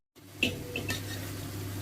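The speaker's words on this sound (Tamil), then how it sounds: "கொஞ்சம் தண்ணி ஊற்றலாம்" Water is poured into a cooking pot of prawn biryani masala, a short close splash followed by a steady gurgling pour, with a faint clink of the vessel near the start.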